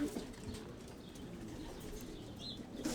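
Racing pigeons in a loft holding old birds, giving soft low cooing and faint rustling against steady background noise, with no voices.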